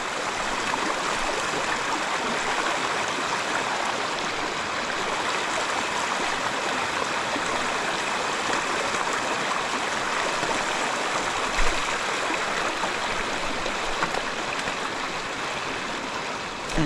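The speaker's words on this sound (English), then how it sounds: "Just got to be careful with the flowing water here." River water rushing steadily during a wade across the Kennebec River on the Appalachian Trail, a loud, continuous broadband flow with no pauses and no one talking.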